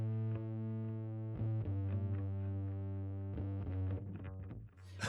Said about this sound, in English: So you've got distortion on that side and the clean Yeah. with delay on that side.